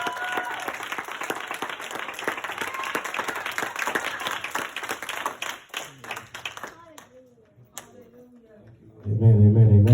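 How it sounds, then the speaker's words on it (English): A church congregation at a Youth Sunday service claps hands, a busy crowded clapping for several seconds that thins into scattered claps before a loud voice comes in at the end. "Give him a hand clap"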